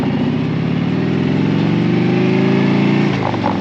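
A Harley Road Glide engine rumbles loud and close with a steady low throb, the pitch sliding down as it downshifts and coasts toward neutral, then settling near the end.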